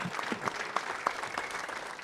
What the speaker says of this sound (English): Round of applause for her and everybody at Driven to Save Lives.